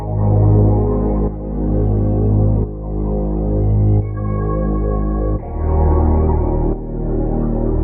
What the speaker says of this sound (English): I went into kickstart and I added this half note gate effect